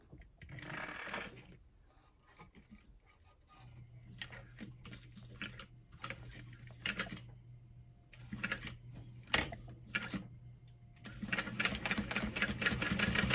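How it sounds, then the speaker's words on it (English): A sewing machine whirs in steady stitching runs along a side seam of a small clutch wallet, with a low mechanical hum, broken by brief stops and clicks. "I'm just going to follow the edge of my sewing machine foot and sew along the side seam"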